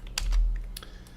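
Keys pressed on a computer keyboard while drafting a concrete slab section detail in AutoCAD, a few sharp close clicks in quick irregular succession with no talk.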